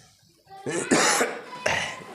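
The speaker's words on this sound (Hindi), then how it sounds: "थोड़ा खांसी हो गया है।" A person coughs a few times in quick succession, close and fairly loud, with a brief throat-clearing quality.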